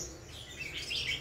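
Small five-coloured sunbirds, sold as a cheap batch of caged birds, give faint high chirps and tweets over a low background hum, with the calls growing a little busier toward the end and no talking.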